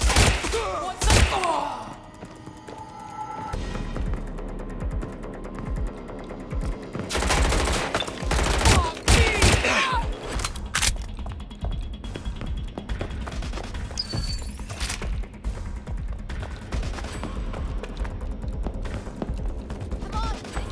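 Bursts of gunfire ring out in Watch Dogs: Legion, with rapid automatic volleys and single heavy shots over a busy combat soundscape, and a voice calls out briefly in places.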